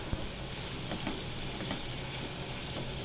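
Pointed gourd (parwal) cooking with salt and turmeric in a pan on medium gas, a steady low sizzle with faint stirring clicks, continuous and soft, no voices.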